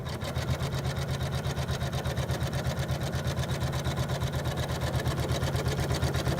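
An embroidery machine sews placement stitches in white thread for a quilt block, its needle running in a steady, fast, even rhythm that stays loud and close throughout with no talk.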